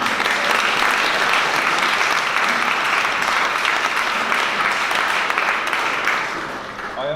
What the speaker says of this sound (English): Let's another round of applause.